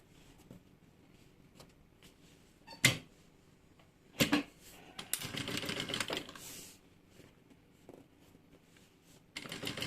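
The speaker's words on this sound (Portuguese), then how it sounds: "E faz aqui um pesponto" A sewing machine topstitches across a small flap of a fabric pouch: sharp isolated clicks and handling knocks, then a short stitching run and another burst near the end.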